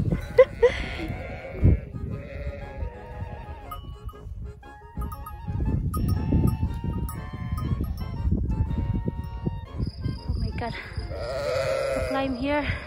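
Sheep or goats bleat on a hiking trail, several close, uneven calls scattered through the stretch amid rustling and wind, with people talking and one voice mimicking a bleat.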